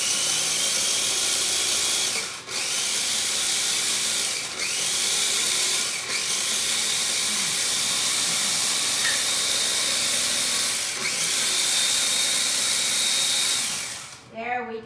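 A spice grinder whirs loudly and continuously, turning fennel seeds and thyme into powder. The harsh, hissing motor noise goes on for about fourteen seconds with brief dips between pulses.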